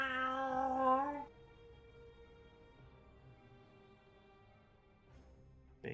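A single drawn-out cat meow for a Ferasan character in a space video game, clear and close, falling to a faint tonal hum with a short burst of sound at the very end.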